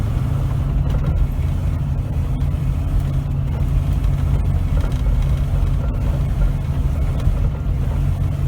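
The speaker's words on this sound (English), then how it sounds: "Hear it cut out." Camper van engine driving uphill, a loud, steady low drone that runs throughout with no clear break in the rumble.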